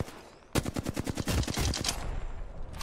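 Rapid automatic gunfire in Apex Legends, a sudden burst of closely spaced shots that starts after a brief quiet moment and carries on loudly to the end.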